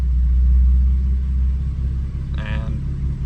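A BMW F80 M3 idles on a cold engine while warming up toward operating temperature, a steady low rumble throughout with a brief higher whine rising near the end.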